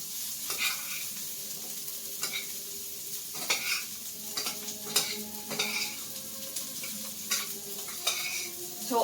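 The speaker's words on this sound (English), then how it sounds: "yes, it is rosemary. Stir it around." Potatoes with rosemary are stirred around in a sizzling pan, the utensil scraping and knocking against the metal in repeated strokes over a constant crackle of frying, close and fairly loud with no talk.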